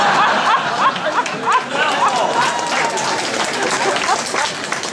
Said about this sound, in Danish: en enkelt, der klapper der